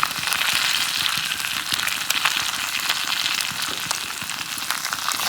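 Fish head and intestines frying in a pan with salt and turmeric, a loud, dense, continuous sizzle and spatter crackling steadily throughout, heard alone without voices.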